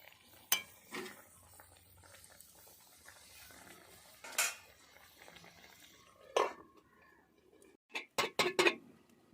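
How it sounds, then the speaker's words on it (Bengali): A lid clatters onto a cooking pot while cauliflower stems cook with fenugreek, with a few sharp metallic knocks near the end and quieter stirring and handling clinks earlier, close and clear. "এবার ঢাকনাটা দিয়ে দেওয়া হবে।"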